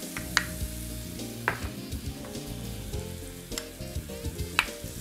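Butter sizzling with chopped onion in a heated pan for a bacon and mushroom sauce, a steady close frying crackle with sharp pops, under melodic background music.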